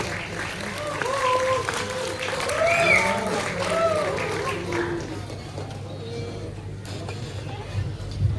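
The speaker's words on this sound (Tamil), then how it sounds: "ஒரு கைத்தட்டலோட லெட்ஸ் வெல்கம்" Audience applause at a Tamil film audio launch event welcomes a speaker to the stage. Steady clapping runs throughout under voices and tonal sounds, easing slightly toward the end.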